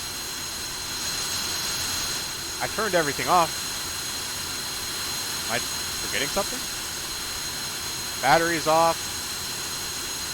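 Steady simulated jet engine drone from an F-5 cockpit in DCS World, a continuous mid-level hum that keeps running after shutdown, with someone talking over it at intervals.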